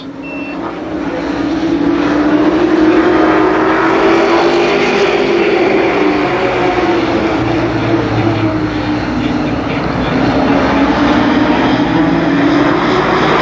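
Limited sportsman race cars lapping Columbus Motor Speedway during a heat race, a loud sustained engine roar with rising and falling pitch as cars pass, continuous and close with no talk.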